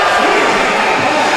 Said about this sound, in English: that gets the crowd on their feet